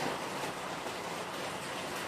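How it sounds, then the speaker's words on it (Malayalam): Steady rain falling outside a home kitchen, a faint, even hiss of drops that holds without change and no one speaking. "മഴയാണ്"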